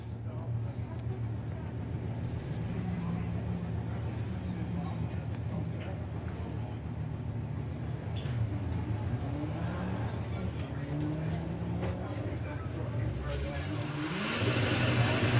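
Worn-out clutch drag racing car running at Santa Pod during Sportsman Nationals VWDRC eliminations, a distant engine drone under steady crowd and track ambience, with a louder engine swelling in near the end.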